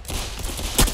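Rapid electric revolver shots in Roblox Arsenal, a burst of loud, crackling game gunfire with a sharper, heavier shot near the end, close up and without talk.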